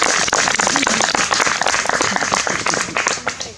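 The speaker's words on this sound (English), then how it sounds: "Can we have a round of applause for Jesse?" Loud, dense audience applause for a speaker at a fall festival ceremony, many hands clapping close and continuous, tapering slightly at the end.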